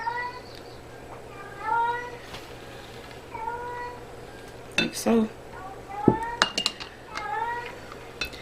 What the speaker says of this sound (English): that cat just cries the whole entire time